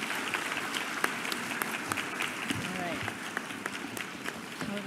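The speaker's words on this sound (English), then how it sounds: "I'd like to invite you to accept another round of applause" An audience claps steadily for teachers at the global launch of SEE Learning with the Dalai Lama, a sustained round of applause with crisp individual claps standing out.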